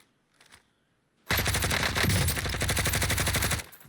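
Warzone video game gunfire: after a brief faint sound, a loud, dense automatic burst rattles for about two seconds, then cuts off.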